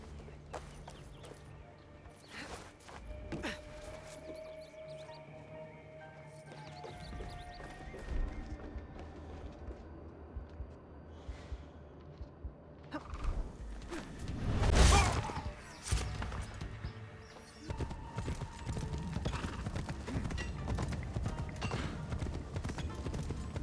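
Horse hooves clip-clopping in Assassin's Creed Shadows, a steady galloping rhythm over ground with an occasional whinny, a loud swoosh mid-way, and game effects layered around it.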